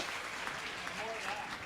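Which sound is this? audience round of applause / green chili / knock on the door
audience round of applause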